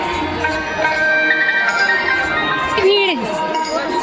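A large outdoor crowd gathered at a chadar tilak ceremony produces a steady murmur and distant shouts, with a voice talking over it and a brief whistling tone.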